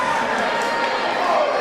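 A crowd at a girls' high school championship basketball final cheers in a steady, dense wash of noise throughout, moderately loud and sustained, with no distinct voices standing out.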